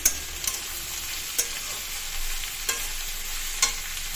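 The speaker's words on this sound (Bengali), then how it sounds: "এবার পেঁয়াজটাকে ভেজে নিচ্ছি" Onion frying in ghee hisses steadily while a spoon knocks and scrapes the pan in several sharp, irregular strokes; nobody talks.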